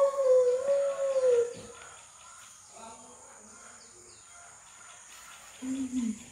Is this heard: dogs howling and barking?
yes